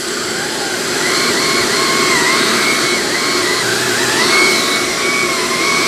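A Shark Apex vacuum with its TruPet mini motorised pet-hair attachment runs steadily, a loud close whine with a wavering pitched tone over a constant airy roar, with no talking.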